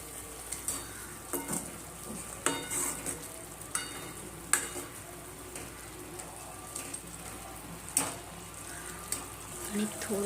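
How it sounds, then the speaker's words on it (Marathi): Fried eggplant being stirred into a sizzling masala for a Maharashtrian kala masala vangi curry, a steady close frying hiss broken by irregular scraping spoon clicks against the pan. "तर त्यामध्ये मी फ्राय केलेले वांगे टाकते. तर हे पण मिक्स करून घेऊया."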